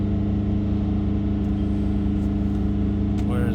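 Mini engine with a turbo pressure sensor and particulate filter fault, held at steady revs near 3000 RPM during a sensor test, a loud continuous drone running throughout with people talking over it.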